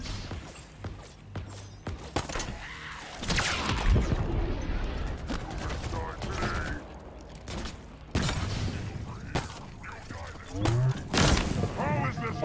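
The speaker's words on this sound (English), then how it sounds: "That explosion was unexpected." A loud boom and crash erupt amid gunfire and mechanical clatter in the video game Halo Infinite, with a player talking over the busy battle noise.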